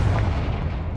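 A short, dense explosive boom from a Confringo fire spell in Hogwarts Legacy, a low rumbling burst filling the whole second without any pause.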